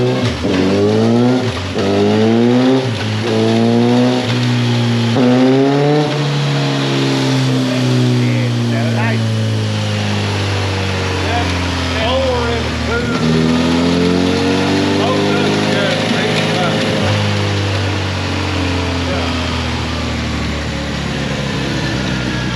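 A loud 2017 Suzuki GSF 1250 Bandit motorcycle engine revs up and down repeatedly on a dyno, pitch sweeping upward then settling into a steady high drone, with brief throttle blips throughout.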